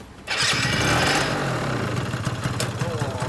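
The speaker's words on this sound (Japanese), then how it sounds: "最速のツーストの音が聞こえたな。" Yamaha Jog ZR 50cc two-stroke scooter fitted with a Wirus Win exhaust starts up, then revs loudly and buzzes close by, its raspy engine note continuing steadily to the end.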